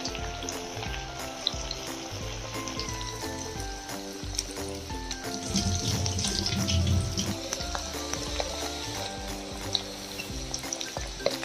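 Chicken pakora sizzles in hot oil over medium heat, a steady close crackle and bubbling that swells briefly midway.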